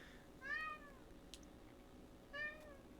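Two separate meows from a bar cat, the first near 0.5 seconds and the second near 2.4 seconds, each a clear rising-falling call over a quiet room hum, with no one talking.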